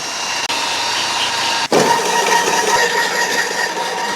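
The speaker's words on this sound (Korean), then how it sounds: "이제 도장이 나오죠. 빨아 올려져서 기계 통해서 밖으로 나오는 거예요." Paint spraying machine drawing up two-tone elastic coat paint, white and pearl shades, through twin pumps: a continuous motor whine and hiss with two brief dropouts, then a sharp restart that runs on steadily.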